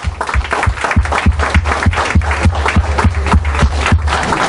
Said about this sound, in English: let's clap in such a way that he can hear it at his home